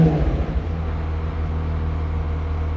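A McLaren 765LT race car engine idles with a steady low rumble and hum just after a brief louder burst at the start, the sound staying even and continuous.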